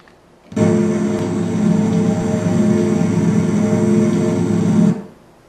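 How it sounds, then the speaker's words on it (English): A loud, steady mechanical drone of a New Holland disc mower conditioner running in a field, starting abruptly and holding a constant hum for several seconds before cutting off. "That is the sound of a disc vine running in the field."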